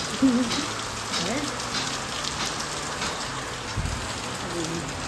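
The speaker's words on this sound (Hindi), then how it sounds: "बहुत तेज बारिश आई, कितनी तेज बारिश है" Very heavy downpour, steady broadband hiss of rain falling on the ground throughout, continuous and fairly loud with no break.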